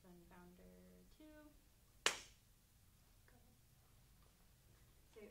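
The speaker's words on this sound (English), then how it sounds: "I'm just going to clap just so we get the audio like synced" A single sharp hand clap cracks out after a few spoken words, loud and close, then quiet talk resumes faintly.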